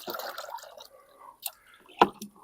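Liquid bee feed ladled from a bucket into hive boxes for weak late-season swarms: a wet splash and trickle at first, then quieter drips and one sharp splat near the end, close by and without talk.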